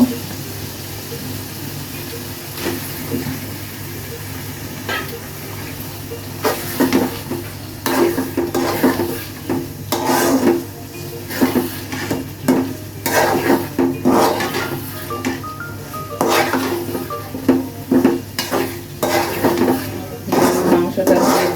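Beef and bottle gourd cook in a pot while a spoon stirs them in repeated, uneven bursts of scraping and clattering over a constant frying sizzle, close and fairly loud.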